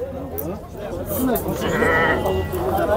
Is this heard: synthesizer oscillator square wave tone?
no